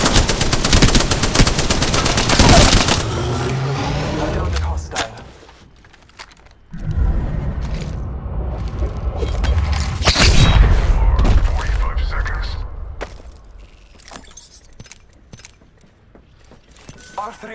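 Video game gunfire in a battle royale shooter, with dense automatic bursts and heavy booming impacts, loud and close at first and then in scattered volleys, with voices talking through it.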